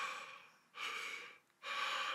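Quick breath-control exercise: two loud, rapid in-and-out breaths through the nose and mouth, close and breathy, separated by short pauses, with no talking.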